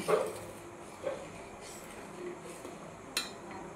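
A pot of boiled milk is lifted off a kitchen stove and set aside, giving a few faint metallic clinks and knocks spaced over a few seconds against a quiet background.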